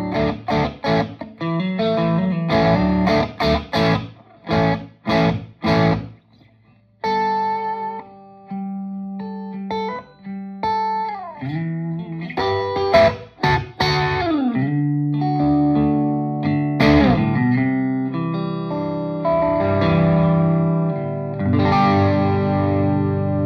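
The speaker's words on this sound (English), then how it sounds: "this is the sound of my amp, basically just with nothing. There's no reverb, there's no nothing." An electric guitar plays through an amplifier with no reverb, starting with choppy chords, then sustained notes and bends, dry with no added echo.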